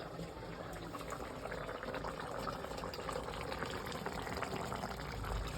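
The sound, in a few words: fish curry broth boiling in a pot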